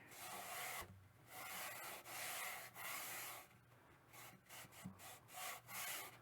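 Sandpaper rubbing back and forth along a wooden guitar neck while it is shaped, a steady series of close, loud abrasive strokes with brief pauses between them.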